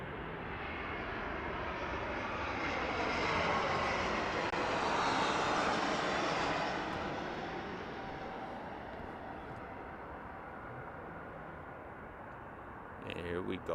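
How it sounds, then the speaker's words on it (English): A Spirit Airlines airplane arrives at Las Vegas Harry Reid International Airport, its jet engine roar swelling to a broad peak and then fading into a steady distant rumble, with brief speech near the end. "We do have a flight coming in from Spirit Airlines"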